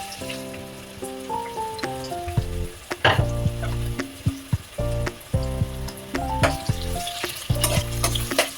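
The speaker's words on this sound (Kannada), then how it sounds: "ಸೊ ಇವಾಗ ಆಯಿಲು ಬಿಸಿಯಾಗಿದೆ. ಇದಕ್ಕೆ ಈರುಳ್ಳಿಯನ್ನು ಹಾಕ್ತಾ ಇದ್ದೇನೆ." Onions dropped into hot oil for butter garlic mushroom palak rice, giving a loud close sizzle and crackle under intermittent music, with bursts of spitting and stirring noises rising and falling.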